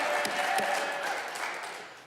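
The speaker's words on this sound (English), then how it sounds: "How many people would like to see me throw out the first pitch? Round of applause." An audience breaks into a round of applause, a dense steady wash of clapping that holds for about a second and a half and then slowly tapers off.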